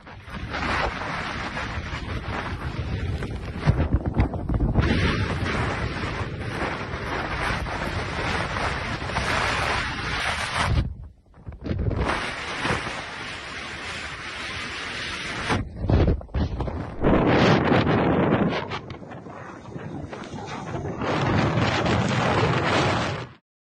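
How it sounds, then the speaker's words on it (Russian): Strong storm wind in Crimea roars and buffets the microphone continuously, with rushing surf beneath and a few brief lulls. "Крым накрыл мощный шторм. Ветер вырывал деревья, сносил крыши"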